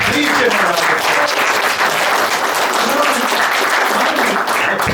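A dense round of audience applause fills a small movie theater in Millerton, New York, steady and loud throughout, with a few voices mixed into the clapping.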